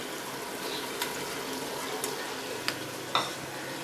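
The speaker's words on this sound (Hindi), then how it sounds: "ये सारे मसाले डाल के अब हमने इसको अच्छे तरीके से इसकी बुनाई कर लेनी है।" Whole spices, cardamom, cinnamon, black pepper, cumin, green chillies and ginger, frying in oil for chicken biryani, giving a steady soft sizzle with a few sharp clinks of a stirring spoon against the pot.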